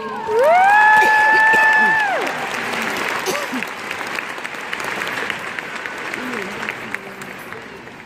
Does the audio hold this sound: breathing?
no